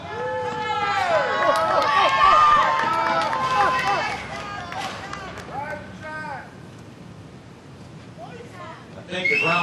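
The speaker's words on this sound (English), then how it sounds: "Let's cheer him on. Wake him up." A crowd of children cheers and shouts loudly together at a Groundfrog Day event to wake a groundhog, the voices overlapping in excited bursts that fade slightly before swelling again near the end.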